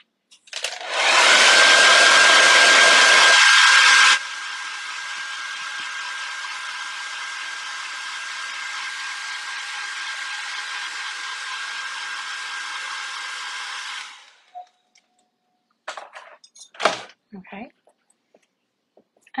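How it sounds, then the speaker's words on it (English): A hair dryer blows loudly at a high setting, then drops to a softer steady whoosh for about ten seconds before switching off, followed by light clatter. "Just gonna use my hair dryer"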